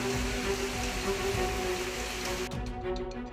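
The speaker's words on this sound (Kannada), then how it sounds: "ಹಾಸನ ಜಿಲ್ಲೆ ಅರಕಲಗೂಡಿನಲ್ಲೂ ಭಾರಿ ಮಳೆ ಸುರಿದಿದೆ" Heavy rain pours in Arakalagudu, Hassan district, Karnataka, a dense loud steady hiss of drops on surfaces that shifts and thins slightly near the end, with no voices.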